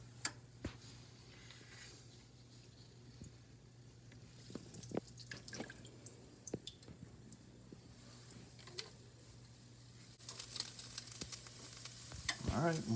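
Rinsed leeks sweating in a pan, a faint low sizzle with scattered pops and occasional utensil taps, growing louder and busier toward the end, over a steady background hum.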